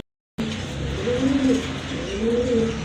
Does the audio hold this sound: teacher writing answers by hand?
no